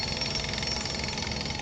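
Jackhammers pound nearby along a bike trail, a dense continuous rattling hammering that stays loud and steady throughout without a break.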